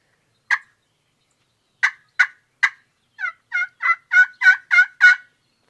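Halloran hen turkey call scratched by hand, giving a few sharp single yelps followed by a quicker, rising run of raspy hen yelps, close and clear in quiet surroundings.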